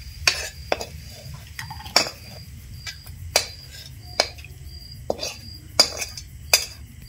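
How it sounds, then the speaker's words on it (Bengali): Paneer roll filling scraped from a pan into a bowl: a series of sharp metallic clinks and scrapes of a utensil against cookware, spaced irregularly, close and fairly loud over a quiet background. "এই বাটির মধ্যে পুরটা নামিয়ে নেব আমি।"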